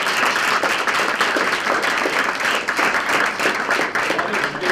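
A lecture audience applauds to thank a professor after an academic talk on arbitrator accountability, a dense, steady wash of clapping that holds for the whole stretch with no voices over it.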